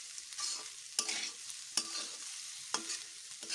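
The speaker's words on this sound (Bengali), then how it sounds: "এবার ভালো করে রাইসের সাথে ভেজিটেবলগুলো মিশিয়ে নেব," Fried vegetables being mixed into rice in a pan with frying sizzle underneath and a few sharp scrapes and knocks of the spatula, close and fairly quiet, no voices.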